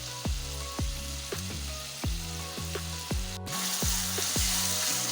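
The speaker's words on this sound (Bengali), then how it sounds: "এবার আমি এর মধ্যে টমেটোমের সস দিয়ে দেব।" Chicken manchurian fries in a pan as tomato sauce goes in, with a loud, continuous sizzle and recurring sharp pops up close. There is no talking.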